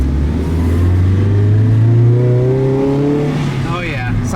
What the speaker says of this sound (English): Oh yeah, sounds like a Honda now.